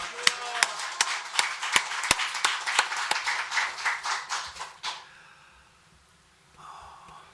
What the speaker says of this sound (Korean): 큰 박수로 한번 올려드립시다